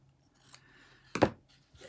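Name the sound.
scissors cutting fabric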